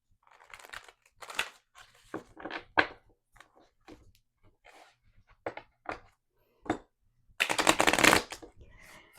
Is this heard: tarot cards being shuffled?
yes